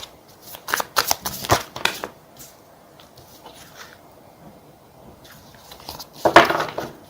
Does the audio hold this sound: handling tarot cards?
yes